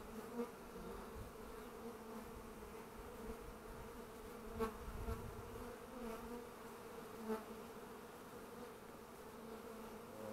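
Honey bees hum steadily around a Warré hive being supered, a continuous close buzz with a few louder passes as individual bees fly near.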